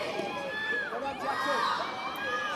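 Cheering and shouting from the crowd at a youth football match in the NSCFL Alevin Division, a busy mass of high young voices calling out across the ground.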